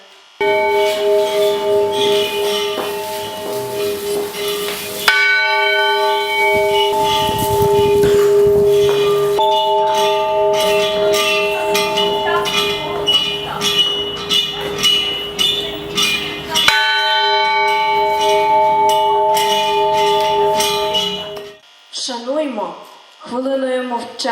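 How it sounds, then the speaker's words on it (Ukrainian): A bell is struck at a school requiem memorial for Holodomor victims in Lviv, giving loud, sustained ringing tones that recur and fade over about twenty seconds, with a brief voice near the end. "вдарте в дзвін, щоб тужлива мелодія полетіла до синього неба"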